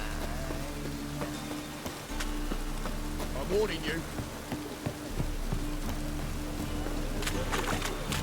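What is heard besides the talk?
rain falling, from a video game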